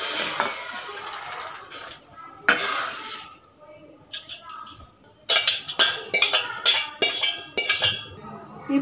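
Boiled sorghum grains are poured into a metal colander in bursts of rattling metallic clinks and clatter, with quieter pauses between pours.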